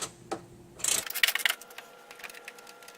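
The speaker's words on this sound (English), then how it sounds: "Take your socket and ratchet" A socket and ratchet loosen a 13mm bolt under the AC line of a 2009-2018 Dodge Ram 5.7 engine bay, a quick run of sharp close ratcheting clicks after a couple of light knocks, fading to faint ticks.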